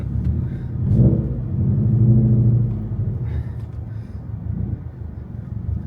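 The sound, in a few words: Subaru WRX STI exhaust revving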